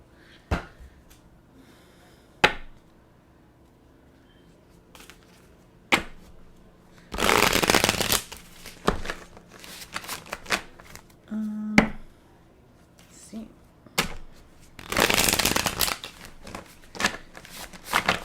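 A deck of tarot cards being shuffled up close: two long riffling bursts among scattered sharp taps and card flicks on a quiet background, with no talking.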